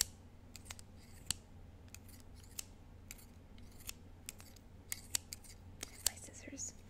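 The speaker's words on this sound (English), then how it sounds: "my scissors." Scissors snipping open a package of health shake supplies in a quiet close-miked room, a series of sharp crisp cuts and clicks at an irregular pace, with soft whispered talk underneath.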